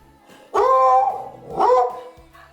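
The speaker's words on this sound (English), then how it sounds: "Oh, it's a puppy." A puppy barks twice, two short, close, bright yips separated by a brief pause, over a quiet background.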